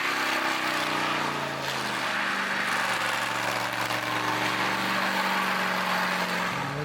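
Chevrolet C10 truck with a swapped-in LS engine doing burnouts: a loud, steady engine roar with a dense rushing hiss of spinning tires, sustained for several seconds, no talk.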